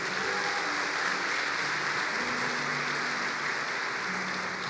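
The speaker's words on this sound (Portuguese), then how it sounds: "Você pode dar um aplauso ao Senhor?" Congregation applauding the Lord during a church celebration service, steady dense clapping from a large crowd throughout with faint murmurs underneath.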